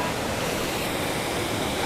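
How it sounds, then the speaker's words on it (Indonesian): A river in a forest flows as a steady, dense broadband rush of water, close and continuous without pauses or voices. "jadi beginilah ya, sungai di dalam hutan itu"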